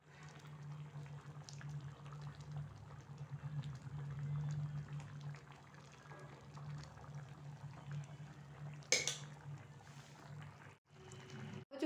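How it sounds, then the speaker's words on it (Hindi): Dal of lentils boiling in a pot, a quiet low steady bubbling hum that swells and fades, with a brief louder clatter near the end and no voices. "दाल हमारी उबलने लगी है"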